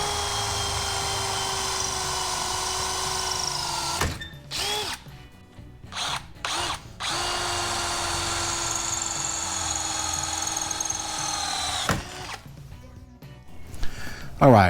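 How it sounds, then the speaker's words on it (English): A power drill whines loudly in several long bursts with short pauses between, stopping and restarting as holes are drilled in a boat's VersaTrack rail; brief clatter in the gaps. "I'm gonna go ahead and get all of the Versatrack holes drilled out."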